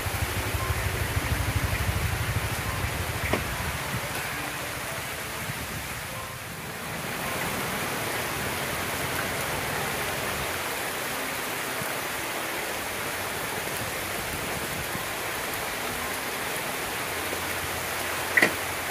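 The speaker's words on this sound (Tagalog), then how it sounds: "wala pong tigil ng ulan" Steady rain falls without letup on a mountain trail, a dense, even hiss that fills the scene from start to finish with no voices.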